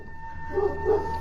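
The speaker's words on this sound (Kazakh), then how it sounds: "ит үріп отыр" A dog gives two short, muffled barks at a distance, over a low steady hum.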